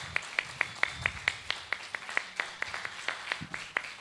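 Audience applause for Cecilia at a student of the year event: a steady run of sharp, evenly spaced claps for about four seconds, moderately loud and fairly close, with no talking over it.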